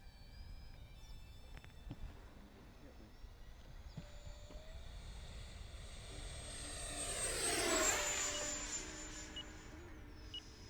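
A Freewing 70mm F-22 Raptor RC jet makes a high-speed pass, its ducted-fan whine rising as it nears, peaking loudly, then dropping in pitch as it streaks away, over steady outdoor wind noise.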